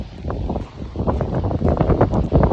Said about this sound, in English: It's really starting to get windy